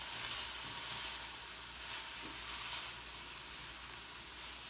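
Chicken fajita onions and peppers sizzling in a pan as they are stirred, a steady broadband frying hiss holding throughout with faint scraping, no voices.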